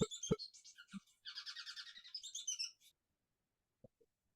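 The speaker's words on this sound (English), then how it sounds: "hopefully I'll have a little snippet of a song of the bird that we study." A recorded songbird song plays, a rapid, high-pitched phrase of fast trilled syllables for about three seconds, followed by a few soft clicks and silence.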